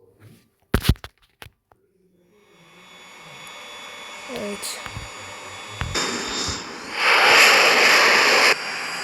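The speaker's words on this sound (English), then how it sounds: "Let's try with a fighter jet. Let's try an f22." An F-22 fighter jet engine in a flight video game, a rising broadband roar that swells steadily and grows loudest near the end, with a short spoken word at the start.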